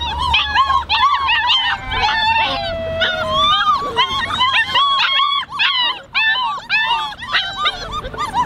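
A litter of puppies kept outdoors yips, whimpers and howls together in a busy, overlapping chorus of high, wavering cries, loud and close and continuing throughout.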